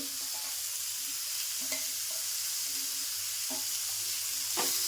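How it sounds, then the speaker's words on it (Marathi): Onion, tomato and coriander stems fry in a pan for Maharashtrian shev bhaji, with a steady close sizzle and a few soft stirring scrapes. "आता मी टोमॅटो पण टाकते त्याच्यामध्ये आणि कोथिंबीरची देठ आहे ती सुद्धा टाकते."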